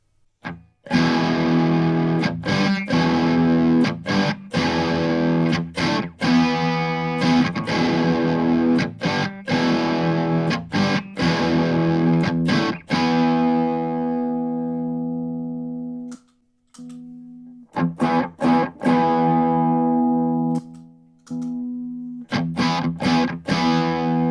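Electric guitar through an MXR Custom Badass '78 distortion pedal at low gain, with tone and distortion at noon: loud, sustained crunchy chords struck rhythmically, with a short pause near sixteen seconds before strumming resumes.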